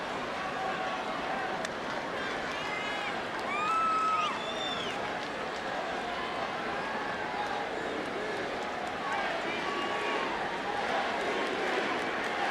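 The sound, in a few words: baseball crowd chanting MVP for Jeter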